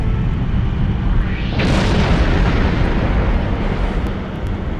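A starship explodes in the Star Trek Online video game as a loud, continuous rumbling roar swells into a broad blast and sustains for several seconds, with no voices.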